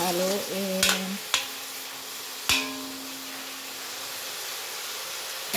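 Pansit bihon rice noodles being stirred in a frying pan, soft steady sizzle with a few sharp utensil knocks against the pan and a brief hum early on, fairly close and quiet.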